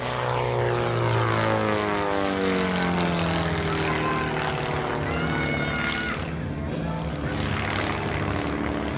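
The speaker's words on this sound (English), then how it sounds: "use the torque of his engine to stop in one spot in the sky" A loud aerobatic propeller plane engine roars close by at an air show, its pitch sliding and wavering as the aircraft hangs and rotates in a torque roll.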